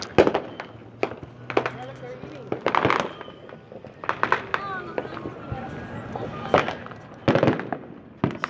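Fourth of July fireworks pop and bang outside in scattered bursts, some sharp and close, others softer, with voices talking intermittently between them.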